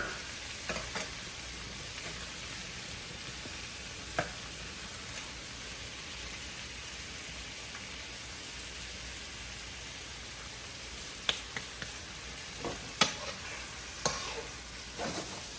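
Ackee and salt fish fry in a pan, a soft continuous sizzle with occasional sharp scrapes and clicks of a utensil stirring, fairly quiet and without talk.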